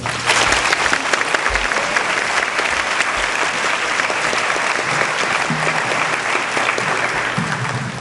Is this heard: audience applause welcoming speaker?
yes